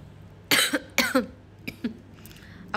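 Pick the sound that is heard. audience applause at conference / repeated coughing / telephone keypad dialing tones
repeated coughing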